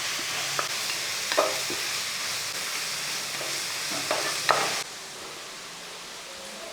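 Sliced onions sauté in a hot pan for a Kerala-style soya chunks curry, giving a steady sizzle broken by several sharp scraping stirs of a spoon. The sizzle drops noticeably quieter near the end.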